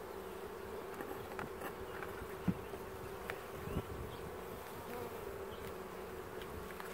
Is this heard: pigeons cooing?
no